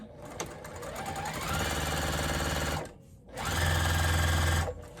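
A sewing machine stitches fabric for a microwaveable bowl cozy in two steady bursts of rapid mechanical whirring, close by, separated by a brief stop.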